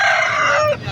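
An Aseel rooster crows once, loud and close, at a rooster market in Tando Adam, its call trailing off sharply at the end.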